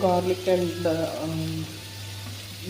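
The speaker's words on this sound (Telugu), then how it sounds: "ఇవైతే వేగుతూ ఉన్నాయి" Chopped onions and tomatoes frying in a home kitchen pan give a soft, steady sizzle beneath a low hum, with a brief run of clattering or tonal sounds at the start before settling into even frying.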